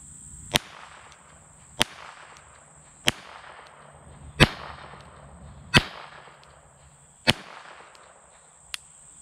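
A Smith & Wesson Model 1 1/2 .22 short cartridge revolver fires seven sharp, loud cracks at an even pace of roughly one every 1.3 seconds, each with a brief echoing tail.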